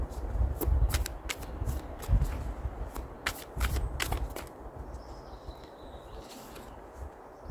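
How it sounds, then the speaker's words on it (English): Tarot cards shuffled by hand, a run of soft papery riffles and slaps in quick bursts, close and fairly quiet with no talking, fading into light rustling near the end. "Let me pull one more card though before I end the reading."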